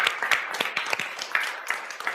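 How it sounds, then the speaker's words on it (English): An audience at a talk bursts into a short round of scattered clapping, a crisp patter of hands fairly close and moderately loud. "Give yourself a round of applause."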